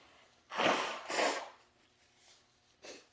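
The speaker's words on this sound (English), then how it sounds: "I need to blow my nose" Two forceful, breathy nose blows in quick succession, followed by a softer sniff and one more short blow, close up.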